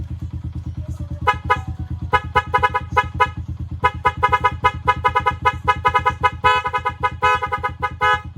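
Rapid, repeated honks from a louder, fuller-toned horn ring out in short bursts over the low, steady chug of an idling motorcycle.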